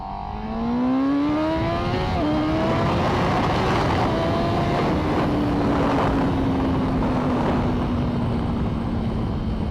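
A Honda Fireblade sport motorcycle accelerates hard through the gears on a road ride, its engine note climbing steeply, dipping briefly at a shift, then screaming on, loud and sustained with strong wind roar.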